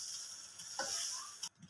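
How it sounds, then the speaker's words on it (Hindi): Semolina dry-roasting in a single pan for halwa gives a steady, close sizzle under a soft scraping stir, with a few small clicks toward the end and a brief knock as the stirring stops. "सूजी को हम अच्छी तरह से भून लेंगे।"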